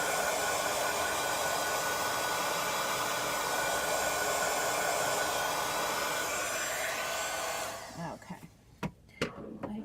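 A hair dryer blows steadily and loudly on a pair of shoes for about eight seconds, then switches off, leaving a few faint handling knocks and clicks.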